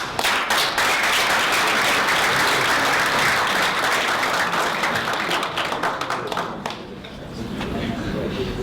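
An audience at a university anniversary awards celebration claps for a prize winner, dense sustained applause that thins out near the end, with some voices mixed in.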